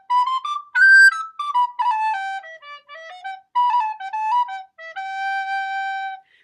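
A soprano recorder plays a short, sweet melody alone, with clear sustained tones and quick note changes at close range.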